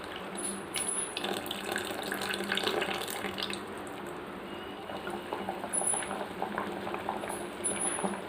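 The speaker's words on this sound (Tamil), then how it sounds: "பாருங்க, குழம்பு நல்லா கொதிக்குது" Okra tamarind kuzhambu (vendakkai puli kulambu) simmering in a pot, a steady, close bubbling boil that runs the whole time with no one speaking.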